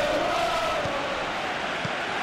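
A large stadium crowd in the PES 2018 football video game roars as one steady, dense wall of sound, with no clear break and no audible commentary.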